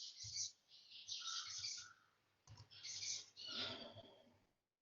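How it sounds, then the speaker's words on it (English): Pet birds chirp indoors at home, a series of bright, high tweets and short calls in a few bursts, clear and fairly close, with no talking. "the birds are, we have some birds at home, so ignore that"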